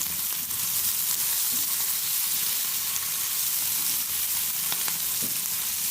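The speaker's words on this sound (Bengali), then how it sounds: "পেঁয়াজটা লাল লাল করে ভাজা দেবো।" Chopped onions frying in mustard oil with cumin, cloves and cardamom tempering, a steady close sizzle with faint crackles and occasional stirring scrapes; no voices.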